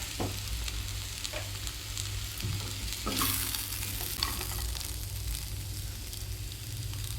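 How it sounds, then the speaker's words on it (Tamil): Curry leaves fry in hot oil for a vegetable curry, giving a continuous close sizzle with crackles and bursts of spattering while a spoon stirs through the pan; no talking. "கொஞ்சம் கருவேப்பிலை போட்டுக்கிறேன்"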